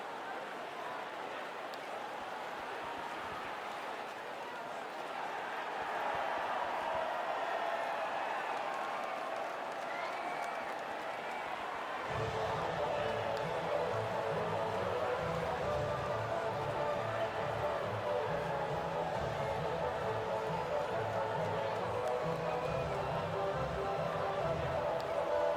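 Crowd cheering and applauding at the podium in the F1 24 racing game, a steady distant wash of cheers and clapping that swells partway through, under a commentator's voice.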